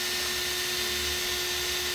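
A drill bores 3 mm holes in a hollow Stratocaster guitar body, giving a steady high-pitched whine with a constant tone, close and continuous throughout, with no talk.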